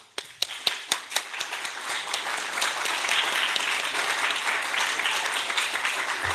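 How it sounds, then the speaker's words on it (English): Audience at a dietetic internship graduation ceremony in Sudbury applauding graduates' supporters: a few separate claps at first, building into steady, dense clapping from a roomful of people that carries on to the end. "let's give you a round of applause."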